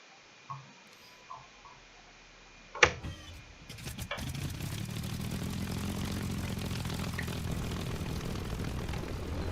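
A propeller aircraft engine spools up for takeoff in the War Thunder simulator, starting with a few faint clicks and a sharp thump, then swelling into a continuous, droning engine roar.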